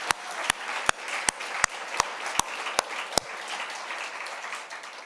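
A church congregation claps in thanks during a Sunday worship service, steady applause with a few sharp individual claps standing out in a regular rhythm, then thinning toward the end.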